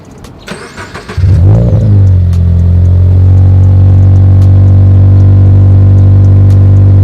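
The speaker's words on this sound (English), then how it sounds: "I'm gonna go ahead and turn the car on for you guys so you guys can hear it" A Toyota 86 fitted with an Invidia N1 exhaust cranks and fires, then settles into a loud, steady, deep idle that holds close to the microphone with no talking.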